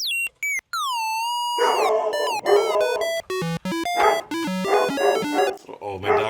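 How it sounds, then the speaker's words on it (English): Synthesized chirps and sweeping tones from a Behringer Cat synthesizer play, joined by dogs barking and whining excitedly over them, close and loud. "dogs are going crazy"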